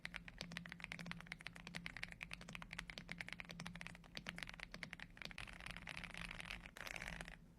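Fast continuous typing on an AULA F75 mechanical keyboard fitted with ice vein switches, a dense stream of soft, creamy keystroke clacks close to the microphone with no talking.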